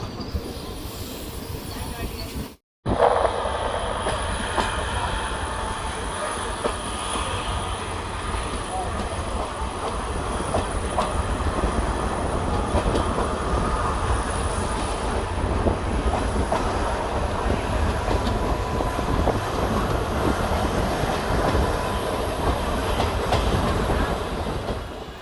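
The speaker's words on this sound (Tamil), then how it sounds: "சேரன் மகாதேவி ஸ்டேஷன்லேருந்து நம்ம ட்ரெயின் டிபார்ட் ஆகி போயிட்டுருக்கு." Tirunelveli–Sengottai unreserved express train rolling on rails after leaving a station, a steady close rumble with continuous wheel clatter and a faint high squeal, after a brief burst of noise at the start.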